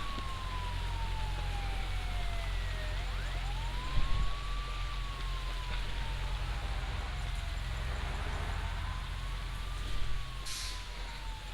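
An ambulance siren in the Bus Simulator Indonesia video game wails in long slow rising and falling sweeps over a low steady engine drone, with a couple of brief knocks along the way.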